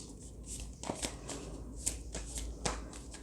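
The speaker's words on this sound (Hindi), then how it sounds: "पहले हम कार्ड्स को शफल कर लेते थोड़े" Tarot cards shuffled by hand in a quiet room, a soft continuous riffling and flicking with a few sharper snaps of the deck standing out, close and moderately quiet, with no voices.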